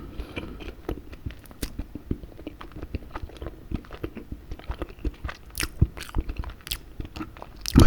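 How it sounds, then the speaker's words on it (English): Close, crisp bites and moist chewing of chocolate cake, a steady run of small crunches and squishes with a few louder bites near the end, no talking. "this chocolate cake is delicious, but I can't eat anymore"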